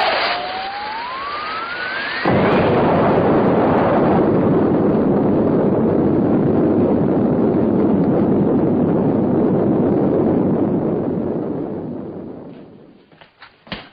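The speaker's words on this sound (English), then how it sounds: "Looks like there's been some kind of an explosion over in Pelham Woods." A film explosion in woods, from Invasion of the Saucer Men, opens with a rising whistle and bursts into a loud, sustained roaring blast. The roar holds for several seconds, then fades out.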